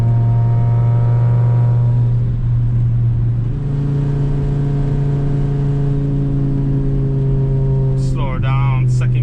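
A turbocharged car fitted with a BorgWarner S257SXE turbo drones loudly and steadily up close, its engine tone stepping up partway through as it accelerates, with a brief whistling chirp near the end.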